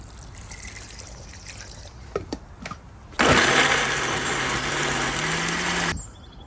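A kitchen mixer grinder whirring as it grinds coconut masala with water for a Goan crab xacuti, a loud steady motor roar lasting about three seconds after a few clinks and taps, then stopping abruptly.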